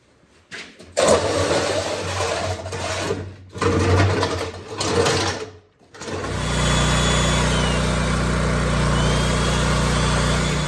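Honda EM3500 generator engine fitted with a new carburetor: a close, loud mechanical clatter that starts, cuts out briefly, then settles into a steady running drone with a strong low hum.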